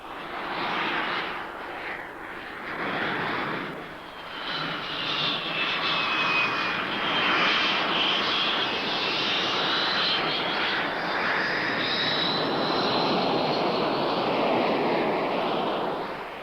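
A jet engine roars steadily and loudly nearby, its whining tone shifting slowly as the aircraft moves along the ground with gusty rushing air.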